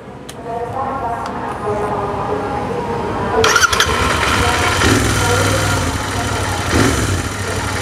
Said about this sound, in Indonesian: Suara ngegerungnya enak, cuman emang bacot knalpotnya masih standar.